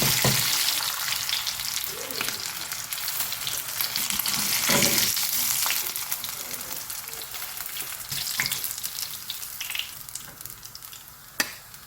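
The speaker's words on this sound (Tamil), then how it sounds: "இப்போ ரசத்தை இறக்கி வச்சுட்டு மீன் வறுத்துடலாம்" Paarai fish frying in a hot pan, a steady loud sizzle and crackle running throughout with occasional pops and brief stirring clatter, no voices.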